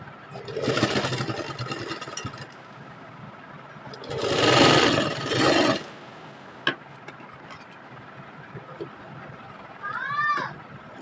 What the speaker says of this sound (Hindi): इसी तरह इस वाली पट्टी को भी सिलाई लगा देंगे।